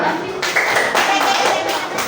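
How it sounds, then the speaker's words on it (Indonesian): A classroom group claps together in a quick burst, then the sound breaks off and resumes, loud and close, with a faint voice under it. "Tepuk tangan."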